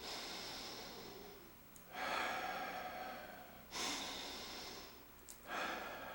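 Three slow, deep breaths, each a long airy rush with quiet pauses between, close and clear with no talking.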